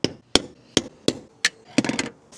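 Hammer tapping a metal center punch on a campervan surface before drilling, six sharp metallic knocks at an uneven pace, close and loud, with the last strikes coming in a quick double.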